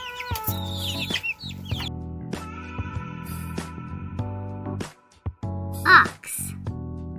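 A chick chirps in a short high burst near the end, set against a steady, upbeat children's music backing with a brief spoken word nearby.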